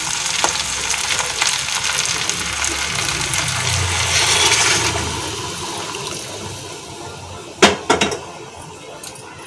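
Water poured into a pan of sizzling meat for a south-style Bengaluru biryani, giving a broad steady hiss and bubbling that swells, then a few sharp clatters of a utensil near the end.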